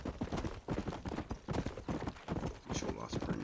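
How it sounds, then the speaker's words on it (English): Horse hooves galloping in the Red Dead Redemption video game, a rapid rhythmic clip-clop running throughout, faint, with someone talking over it. "look at this riding a horse"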